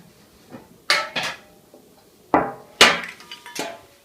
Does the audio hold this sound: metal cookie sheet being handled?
yes